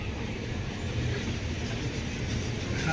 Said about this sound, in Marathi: भारतीय रेल्वेचं हे आहे परभणी जंक्शन